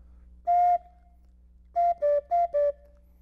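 A silent-film-era multi-tone sound-effect whistle imitating a cuckoo sounds one long note, pauses, then gives four quick alternating two-pitch toots, clear and close with no talking.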